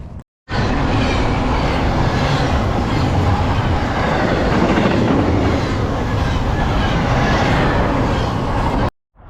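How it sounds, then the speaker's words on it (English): A train passes on railroad tracks near Eloy, Arizona, a loud, close, continuous roar with rhythmic clickety-clack that starts abruptly, holds steady for several seconds and cuts off near the end. "Well, that was great. A train came."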